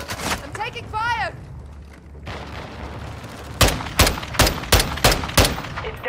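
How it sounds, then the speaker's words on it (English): Gunfire in Warzone 2.0 resurgence, a single loud shot early, then after a quieter stretch a spaced series of about seven sharp, heavy shots, close and punchy, with a brief radio-style voice near the start. "I'm taking fire."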